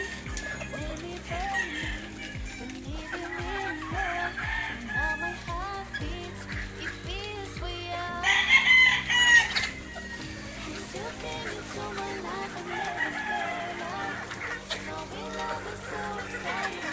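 Backyard hens, chicks and roosters clucking and peeping continuously, with a louder crow-like burst midway, moderately near; a person talks intermittently among the birds.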